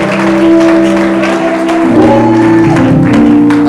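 Church congregation cheering and applauding the Lord at a French-language worship service, a dense close wash of clapping and shouts mixed with sustained tones, loud throughout the short burst.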